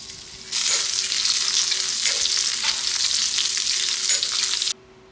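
Shallots and dried red chillies frying in coconut oil burst into a loud, close, continuous sizzle that holds steady for about four seconds with faint stirring scrapes, then cuts off abruptly into near silence.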